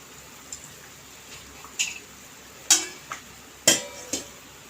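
Cooked pearl millet rice stirred in a pot, heard as a handful of soft scrapes and light knocks from a spoon, spaced irregularly and growing a little sharper toward the end, quiet against a faint room background.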